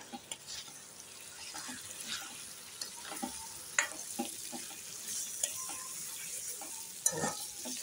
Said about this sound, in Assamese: মাংসটো অলপমান ফ্ৰাই কৰি ল'ম ইয়াতে